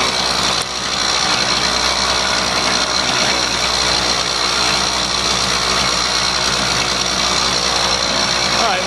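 A motorized bicycle's small engine idles steadily while warming up in a garage, a loud, continuous buzzing drone held at an even level throughout.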